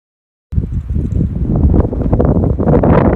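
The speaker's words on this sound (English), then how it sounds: "I know it's really windy, but look at this view." Strong wind buffets the microphone at a desert canyon viewpoint in the American Southwest, a loud, continuous roar that cuts in suddenly after a brief silence and stays gusty and close.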